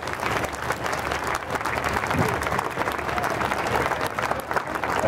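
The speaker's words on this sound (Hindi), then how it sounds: "अपने स्थान पे खड़े होकर एक बार तालियां बजा दीजिए।" A standing crowd applauds at the closing day of a Hindu mahayagya ceremony, dense continuous clapping with some crowd murmur mixed in, steady and fairly loud throughout.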